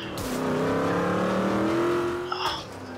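A Rolls-Royce in Forza Motorsport 5 accelerating slowly, its engine droning and rising steadily in pitch at close range before easing off, with a brief tire squeal near the end.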